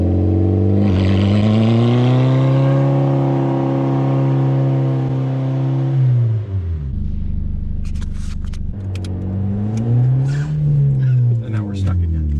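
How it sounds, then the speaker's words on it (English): A manual car pulls away in first gear with a clutch dump, its engine revving loudly with a steady drone, then dropping as it bogs and rising again, with talk over it. "Here's just a classic first gear start, just a clutch dump."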